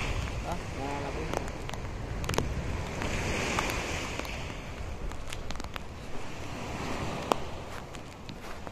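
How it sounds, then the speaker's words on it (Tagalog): Strong ocean waves at an island shore, a continuous broadband rush of surf with wind noise and scattered knocks and bumps, recorded close. "Sobrang lakas talaga ng alon dito na abos."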